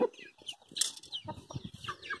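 Two hens kept with a white bearded Indio rooster cluck close by in a farmyard, giving a busy run of short, overlapping clucks and murmurs with a few brighter calls mixed in.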